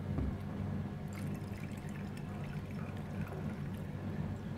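Teacher's 50 blended scotch whisky pours steadily into a glass, a soft continuous trickle over low background noise with no speech.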